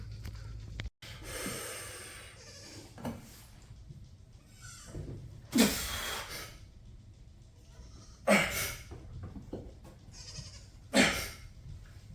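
Several loud goat bleats ring out near a farmyard, sharp bursts at intervals with snorts and breathing between, over a low steady background and a little faint talk.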